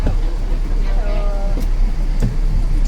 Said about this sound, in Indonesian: Busnya baru datang